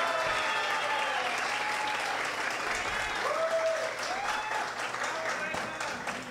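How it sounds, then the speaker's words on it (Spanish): An audience at a municipal festival event in Campo Alegre applauds the head table with strong, sustained clapping that dips slightly toward the end, while a voice and some tonal sounds run faintly underneath. "Un fuerte aplauso para nuestra mesa principal."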